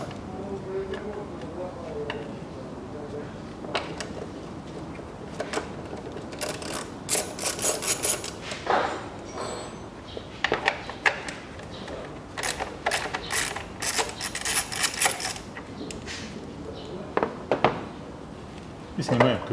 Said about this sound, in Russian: Открыл капот, откручиваем вот этих три болта